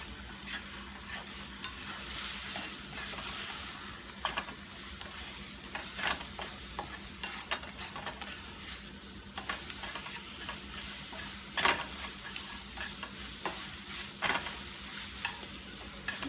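Soft scrambled eggs stir and sizzle on a hot iron, a continuous gentle frying crackle broken by scattered scraping taps from the utensil.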